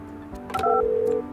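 Telephone dialing tones in the Project Highrise video game, a short sequence of steady electronic beeps, one held longer, clear and close over a quiet background.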